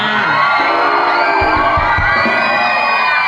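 Loud, dense cheering from the Ayutthaya supporters' section at a song-battle final, a continuous wall of shouting and whooping voices close and overwhelming throughout.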